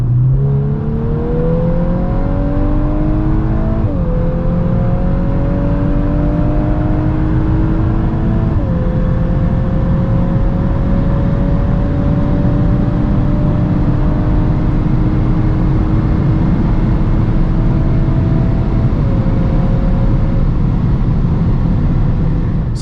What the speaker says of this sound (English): So let's now see how fast the car goes from 100 to 200